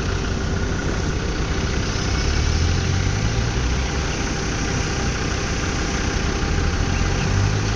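Off-road vehicle engine pulling in second gear on an uphill stretch during an off-road driving seminar, a steady, loud, droning rumble that holds constant with no speech.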